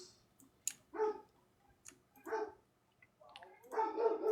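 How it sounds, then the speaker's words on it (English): A dog barks in the background at a mailman, several separate yips and barks spaced irregularly, fairly faint and distant. "Sorry about my dog barking in the background chat."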